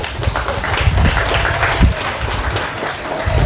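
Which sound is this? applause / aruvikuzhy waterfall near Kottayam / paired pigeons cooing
applause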